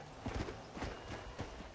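Horse hooves clip-clop at a walking pace in the video game Red Dead Redemption: Undead Nightmare, several distinct close hoof strikes landing in an uneven rhythm over low background sound.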